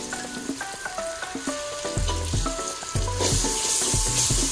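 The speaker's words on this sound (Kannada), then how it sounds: "ಸಿಂಬಲ್ಲೇ ಫ್ರೈ ಮಾಡ್ಕೊಳ್ಳಿ ಒಂದು 5 ಮಿನಿಟ್ಸು." Beans, knol-khol and carrots with ginger-garlic paste frying in a pan for vegetable biryani, a steady close sizzle under clear tonal music that swells louder in the second half.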